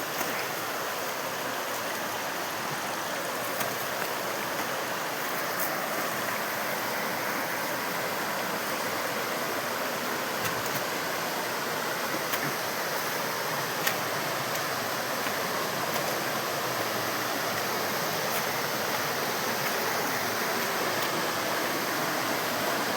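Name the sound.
flowing water of a jungle stream in Meghalaya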